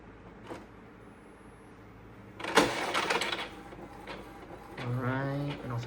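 An Epson printer attached to a self-service printing kiosk starts up with a sharp mechanical clatter, then whirs and feeds paper in short rhythmic pulses, fairly faint and close.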